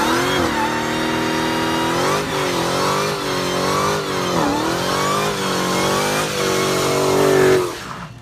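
A Dodge SRT Hellcat with a 707-horsepower supercharged V8 muscle car engine revs hard and repeatedly, its loud snarling note rising and falling through several pulls before cutting off abruptly at the end.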